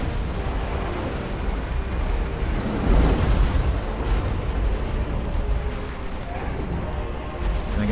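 Artillery fire booms through a Total War: Warhammer 2 battle, a dense, continuous roar of cannon blasts and battlefield rumble with one heavier surge near the middle.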